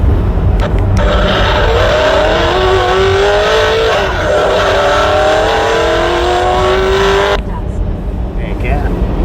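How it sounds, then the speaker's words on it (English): A semi truck's engine and turbocharger spool up inside the cab on a highway run from Mississippi to Alabama, a loud rising whine over the steady engine roar that fades out near the end, with a voice talking over it. "That's my turbocharger right there, man."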